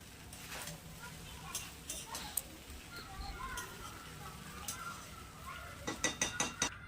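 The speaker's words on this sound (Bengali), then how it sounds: "2 মিনিট পরে আবারও একটু নাড়াচাড়া করে নিচ্ছি" A spoon stirs sabudana khichuri in a cooking pan over a medium flame, giving scattered scraping clinks against the metal, with a quick run of sharper knocks near the end.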